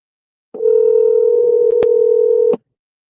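A car hands-free system plays a steady, loud single call tone lasting about two seconds, starting and stopping abruptly with a faint click midway, alone in otherwise silence.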